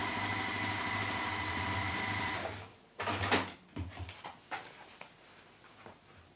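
A sewing machine stitches along the top edge of a handled bag, whirring steadily for a couple of seconds, then stopping and restarting in short bursts with clicks and fabric handling between runs.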